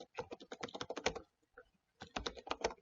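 Bursts of rapid keystrokes on a computer keyboard entering a terminal command, close and fairly quiet, with a short pause partway through before a second run of typing.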